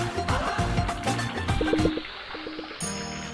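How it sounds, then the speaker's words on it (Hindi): Water runs from a leaking tap in a radio public-service ad, a steady gurgling trickle that fills the short scene, with a few clinks and a change in tone near the end. "नल से पानी टपक रहा है भाई"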